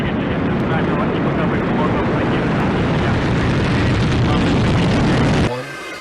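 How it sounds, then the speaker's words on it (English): Rocket liftoff roar, a loud dense broadband rumble that holds steady for over five seconds before dropping away abruptly near the end. "We have liftoff."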